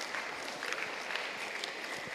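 An audience at a Tamil church talk applauds. The clapping is faint and distant, a steady scattered patter with no voices over it.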